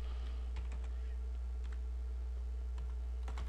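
Keys clatter on a computer keyboard while text is entered in Photoshop CS4, a few quick bursts of soft clicks spaced over a steady low electrical hum, close and quiet.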